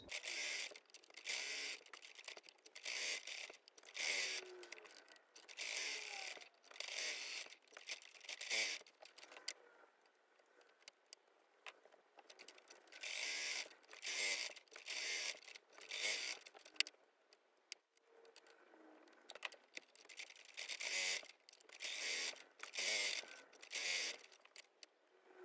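A sewing machine stitches fabric pockets for an advent calendar in repeated bursts of rapid, rattling mechanical clatter a few seconds long, separated by short quiet pauses, close and fairly soft.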